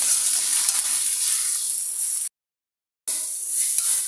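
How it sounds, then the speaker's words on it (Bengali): Garlic paste and onion paste fry in oil in a pan with a steady, close sizzle that cuts out briefly before resuming. "1 মিনিট ভেজে নিব।"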